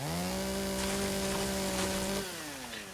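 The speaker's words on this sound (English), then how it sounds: "because I specifically have a chainsaw, it's specifically going to get the wood" A chainsaw in the video game Once Human cuts wood with a loud, steady motor drone that holds for about two seconds. It then drops in pitch as the engine eases off and trails away.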